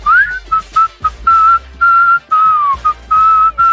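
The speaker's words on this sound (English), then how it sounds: "I'm quite a good whistler." A person whistles a lively tune in short, clear phrases with brief gaps between them, close and loud, with a few rising and falling slides between notes.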